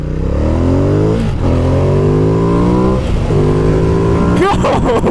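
A 2016 Ducati XDiavel S sport cruiser accelerates hard and loud and up close, its engine note climbing through several gear changes with brief dips between pulls, and wind roar underneath.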